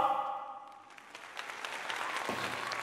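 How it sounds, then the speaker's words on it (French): Applause sound effect plays during a Europa Universalis 4 session, a burst of clapping from a crowd that swells after a brief opening tone and keeps up steadily to the end. "Et vous avez intérêt à applaudir,"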